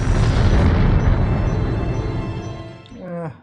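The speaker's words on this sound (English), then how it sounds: "Average explosion." A big explosion from the 1971 James Bond film Diamonds Are Forever, a loud broadband boom and rumble that slowly fades over about three seconds, followed by a brief tonal swell of film score.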